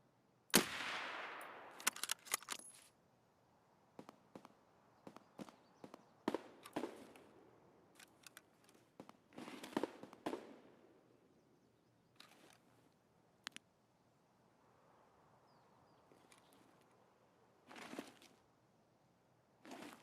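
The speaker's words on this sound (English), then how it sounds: "We're doing some shooting." Sparse, sharp gunshots in Escape from Tarkov, a dozen or so distinct cracks spaced irregularly with quiet gaps between, some louder and nearer than others.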